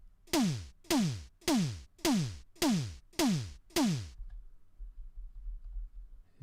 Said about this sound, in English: The snare sounds like this.